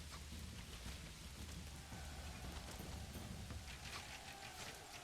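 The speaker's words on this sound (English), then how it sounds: "We fight in the rain." Steady, dense rain pours down over a medieval battlefield in Manor Lords, an even wash of hiss with faint low rumbling beneath it and no voices.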